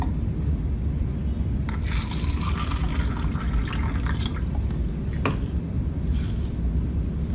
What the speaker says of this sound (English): So tomato wash with tap water.